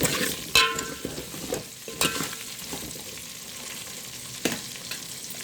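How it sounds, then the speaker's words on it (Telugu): Chopped onion and green chillies frying in a pan, a steady sizzle broken by a few sharp scraping clacks as a spoon stirs them, with no talk. "ఒకసారి కలుపుకుందాం"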